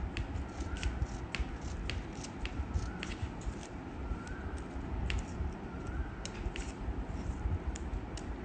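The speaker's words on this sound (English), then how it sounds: "I am resting my scissor on my fingers and then sliding the paper through" Scissors snipping paper to make paper flowers, the paper slid through the blades in a steady run of close, crisp cuts with faint rustling between them.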